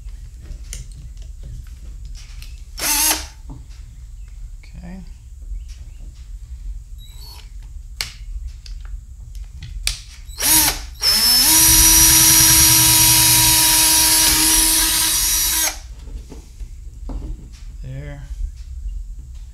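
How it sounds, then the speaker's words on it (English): A power drill whirs at steady speed for about five seconds, preceded by scattered clicks, short bursts and handling noises in a quiet room. "Let's go with this drill bit right here."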